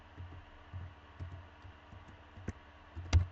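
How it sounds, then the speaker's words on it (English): Quiet typing on a computer keyboard during a Minecraft tech build: soft irregular key clicks and taps, faint and close, with a slightly louder click near the end. "Oh wow, yes, I'm very, very good at typing."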